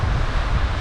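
Wind roars across open sea near Mandhoo in the Maldives as waves wash steadily against a sailing boat, forming a loud, continuous, broadband rush.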